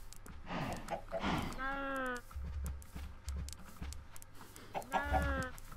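Minecraft chickens cluck and squawk in short bursts amid shuffling and low thumps, with a voice speaking briefly near the start.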